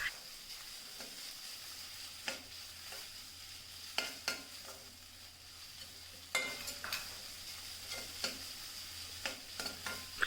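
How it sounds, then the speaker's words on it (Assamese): Ginger-garlic paste frying with onions in hot oil, stirred now and then with a spatula: a quiet, steady sizzle broken by sharp scraping clicks against the pan. "কিছু সময় পুনৰ ভাজিলোঁ"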